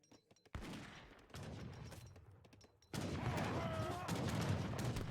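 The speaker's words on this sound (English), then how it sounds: "leather cannons continuing to just blow them away" Cannon fire booms in a video game battle, a dense, loud barrage of overlapping blasts that comes in abrupt bursts, building to continuous heavy rumbling volleys in the second half.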